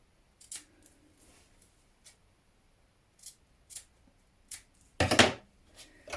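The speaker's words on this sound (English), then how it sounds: "Snip into it. We're going to snip back to that point." Scissors snipping into knit fabric for a McCall's 7975 knit top, a handful of sharp, separate cuts spaced out over quiet, ending in a louder cluster of snips close by.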